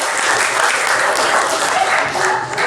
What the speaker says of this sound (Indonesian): Silakan tepuk tangan buat kita semua.